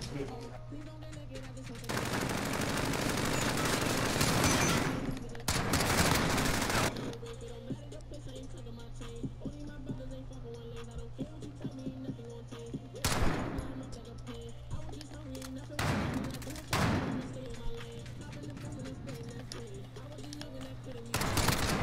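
Gunfire in a Call of Duty: Modern Warfare gun game match, where a revolver is among the weapons: loud bursts of rapid automatic fire and a few sharp single shots ring out over a steady low game hum.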